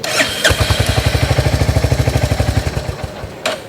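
A Royal Enfield Hunter motorcycle engine cranks and catches, settling into a steady, loud thumping idle with even pulses close by, then cut off, with a brief rev near the end.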